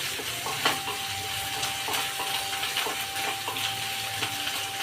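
Garlic, ginger and cumin sauté in a pan for a green peas curry, producing a continuous soft sizzle with intermittent stirring scrapes and faint clicks, with no talking.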